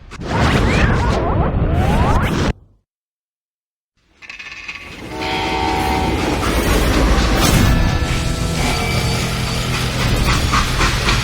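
Heavy mechanical clanking and grinding of a train being brought to a stop in the Western shooter Call of Juarez Gunslinger, loud metallic rattling broken by a brief silent gap, then sustained screeching and rumbling.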